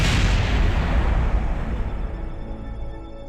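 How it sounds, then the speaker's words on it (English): A spacecraft explodes in Kerbal Space Program, a loud, broad boom at the start that rolls off into a long rumbling decay, with no voices over it. "It looks like this vessel might... like it's just gonna explode right now."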